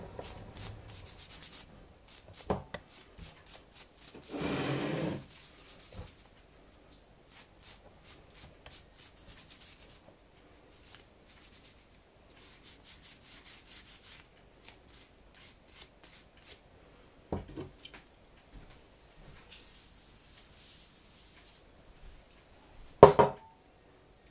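Brush scrubbing the stripped parts of a Ruger 10/22 rifle during cleaning, heard as bursts of dry rubbing strokes, near and fairly quiet, with pauses and one louder knock near the end.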